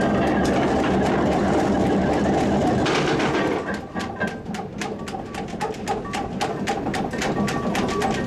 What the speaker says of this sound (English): The drive from the diesel engine rotates continuously